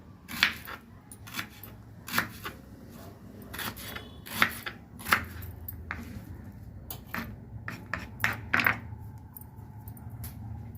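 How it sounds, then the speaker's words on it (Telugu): A knife cuts onions lengthwise on a board, giving sharp, irregular chops and taps heard close and fairly quiet, with no talking. "ఉల్లిపాయలు కొంచెం పొడవుగా కట్ చేసి పెట్టుకోవాలి ఇదిగోండి ఈ విధంగా ఇలా కట్ చేయాలి"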